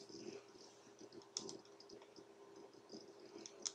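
Faint keystrokes on a computer keyboard, a few light, scattered clicks at close range over a quiet background hum.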